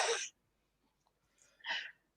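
A person sneezes twice, with sharp, fairly loud bursts close by and about a second and a half apart, separated by near silence.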